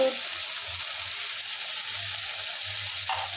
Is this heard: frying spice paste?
yes